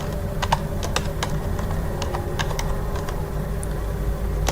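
Steady, rapid typing on a computer keyboard while HTML code is entered, with close, crisp key clicks continuing throughout over a low hum and no talking.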